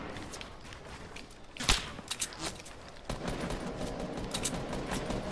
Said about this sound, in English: they're sniping us from Divot with a semi-auto